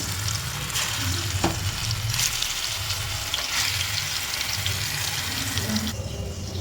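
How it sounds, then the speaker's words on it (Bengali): Pieces of bhetki fish frying one by one in hot refined oil in a kadai, giving a loud, steady, close sizzle and crackle that continues throughout with no voices. "এরপর একটা একটা করে মাছ তেলের মধ্যে দিয়ে দেবো।"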